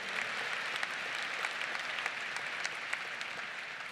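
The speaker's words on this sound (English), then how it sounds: "Give me a round of applause for everybody voting" A large commencement audience at a university winter graduation claps in a broad, continuous wash of applause, steady and even throughout with scattered sharper claps standing out from the crowd.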